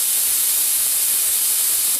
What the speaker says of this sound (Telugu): ఆవిరిపోయాక